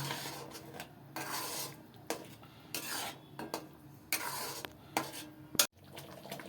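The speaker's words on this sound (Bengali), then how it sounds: "ভালো করে নাড়িয়ে নিয়ে নিয়ে মশলাটা মিশিয়ে দেবেন" A spoon stirs masala in a pan for coriander chicken, making repeated scraping and rubbing strokes with irregular rhythm, close and moderately loud, ending in a sharp clink.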